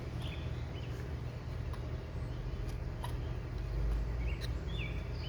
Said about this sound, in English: The birds are cheeping.